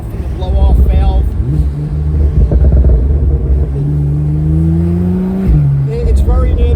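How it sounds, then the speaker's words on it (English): A 2015 Porsche 911 Turbo S with a modified exhaust drives top-down, engine rumble rising under wind noise, with a sustained climbing pull and faint whistly blow-off valve sounds; a voice speaks at the start and end. "you can hear it. And I don't know if you're catching those whistles and stuff from the blow-off valve."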